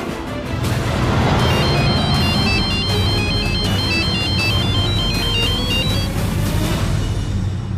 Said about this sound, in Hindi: ध्रुव भैया का फोन। धानी बिटिया को लगाते हैं